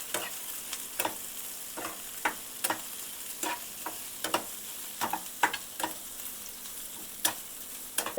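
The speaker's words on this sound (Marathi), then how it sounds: "आता हे सगळं एकत्र हे करून तेलात फ्राय करून घेऊया" Tomato, cabbage and carrot stirred together in hot oil, with a soft steady sizzle and regular scraping stir strokes, close up and moderately quiet, no voices.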